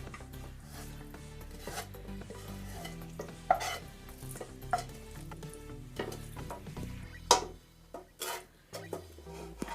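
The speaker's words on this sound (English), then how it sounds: "Now let's mix a bit and put it in here." Tuna pasta sauce with olives and mozzarella being stirred in a pan, a steady scraping and rubbing with a faint sizzle underneath, punctuated by a few sharper clacks of the utensil against the pan.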